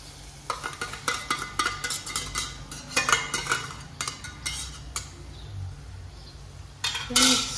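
A utensil scrapes and clinks repeatedly in a pan as egg masala with tomato paste is stirred, giving irregular close scraping strokes over a faint low hum.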